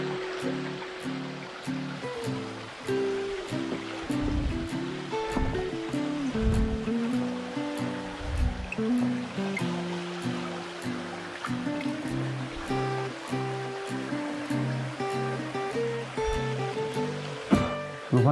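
A small mountain stream holding wild brown trout flows steadily, a continuous rushing wash of water with music playing underneath throughout.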